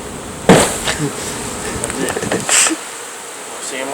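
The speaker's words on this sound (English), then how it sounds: "I'll show you a real easy way to get the bees off the frame" Honey bees on a hive frame buzz steadily close by, with a sharp knock and some handling bumps amid the droning hum.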